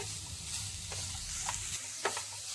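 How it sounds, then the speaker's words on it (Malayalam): Grated coconut, banana and jaggery sautéed in a pan give a low, soft sizzle broken by a few light spatula scrapes, close but faint. "1 മിനിറ്റോളം ഒന്ന് വഴറ്റി കൊടുത്താലും മതിയാകും."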